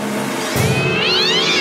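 A cat gives a single short, rising meow, close and clear over a steady background hum.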